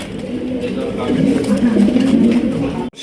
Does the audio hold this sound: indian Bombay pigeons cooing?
yes